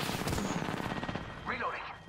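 Rapid machine-gun bursts ring out in the Apex Legends battle royale, a steady rattle of enemy fire over the first second, then scattered shots with brief voice-like sounds in the background.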